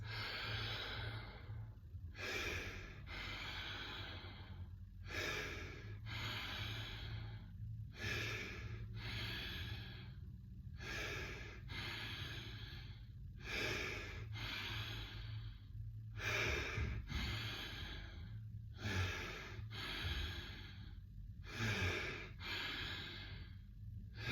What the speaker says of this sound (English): So this is circular breathing. So it looks something like this.